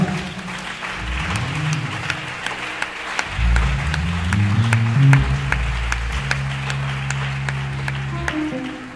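A church congregation applauding, sustained clapping from many hands filling the room, with organ or keyboard chords sounding underneath.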